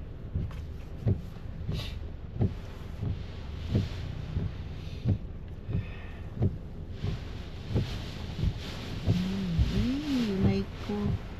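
Strong, gusty wind buffets the microphone outdoors in New Zealand, a steady low roar with repeated thumping bursts throughout and a faint engine or tonal whine near the end.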